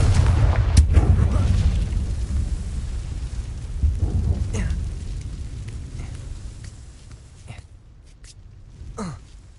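The Confringo blasting spell detonates in Hogwarts Legacy, a heavy, rumbling explosion that hits at the start and slowly rolls away, followed by scattered fainter impacts and soft game sounds.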